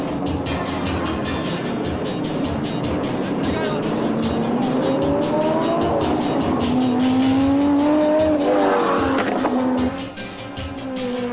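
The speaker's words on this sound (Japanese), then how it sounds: "そして今サーキットに帰ってきたスカイライン、星野自ら日産の大先輩北野とコンビを組みステアリングを握っている" A 1989 Calsonic Nissan Skyline GTS-R Group A race car circuit racing, its engine droning loud and continuous with rising and falling pitch as it accelerates and shifts, tires and other cars audible under an announcer speaking.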